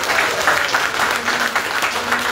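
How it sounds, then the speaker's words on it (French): Audience applause at a ceremony presenting a project from Anjouan, a steady wash of many hands clapping at moderate loudness, with a faint voice or hum running underneath. "Et je vous demanderai d'applaudir chaleureusement le projet porté par Abdourahim Rahilou Garderai."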